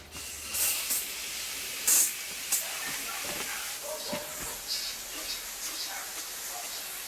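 Water sprays from a hose to rinse a bike, a steady close hiss of spray with a few sharper bursts as the stream shifts.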